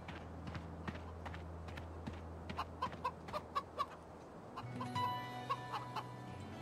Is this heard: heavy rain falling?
no